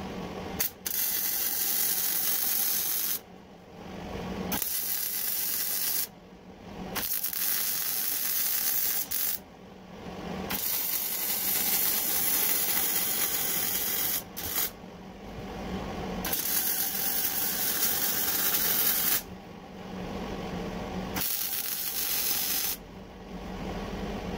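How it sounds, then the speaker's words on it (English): Welding on a homemade muffler for a Polaris RZR 1000 gives a loud, steady crackling buzz that runs in long bursts, each broken by brief pauses. "Weld this stuff up a little bit."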